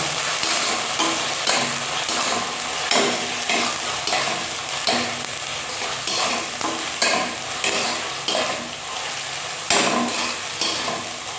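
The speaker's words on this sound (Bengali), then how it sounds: "এটাকে কিন্তু ভালো মতন কষিয়ে নিতে হবে।" Spiced potato curry for aloo dum is stir-fried in a pan: a continuous sizzle broken by rhythmic scraping and stirring strokes every second or so, close and moderately loud.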